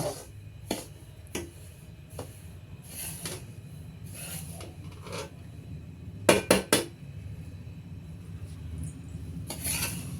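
Semolina (rava) frying in ghee in a pan is stirred with a metal spoon for beetroot rava laddu, producing soft scraping and a few sharp clinks against the pan over a low background, with no talking.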